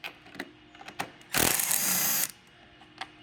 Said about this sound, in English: now using our 40 Torx, we're going to remove the two bolts